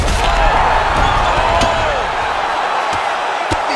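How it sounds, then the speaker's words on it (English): Continuous loud arena crowd roar from the UFC 5 video game during a Paddy Pimblett vs Dustin Poirier fight, swelling with the exchanges and punctuated by several sharp impact thuds. "you hear the crowd react every time they come together"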